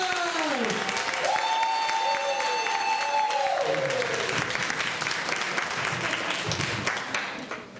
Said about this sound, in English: I want you to put a big hand clap together for Trustee Ed Myers.